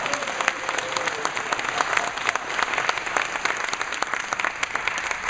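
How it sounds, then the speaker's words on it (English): A small group claps for Maxie in a lively, uneven round of applause, individual claps distinct and crisp at close range, continuing steadily for about five seconds over a faint constant tone. "3, clap for Maxie."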